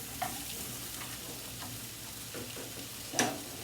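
Steak with mushrooms and onions sautés in a pan, a steady close sizzle and crackle with a few faint ticks of a utensil, no talking.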